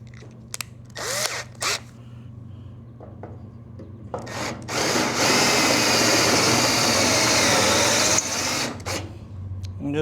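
Spot weld drill bit boring through sheet metal during cab repairs on a Ford F800 truck, several short drill bursts followed by a long sustained whine under a low steady hum.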